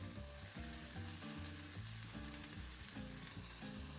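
A low-carb pizza melt cooks in a pan on a stove set to low, giving a soft, steady sizzle and faint frying crackle that stay quiet and close throughout, with no voices.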